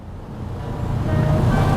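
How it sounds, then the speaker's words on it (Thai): The motorized power radio antenna on a 1991 Mercedes-Benz W126 300 SEL extends with a steady whirring motor hum that builds and grows louder over a couple of seconds, close by, with no talking. "ถ้าเกิดคุณผู้ชมเปิดวิทยุนะฮะ เสาจะขึ้นขึ้น"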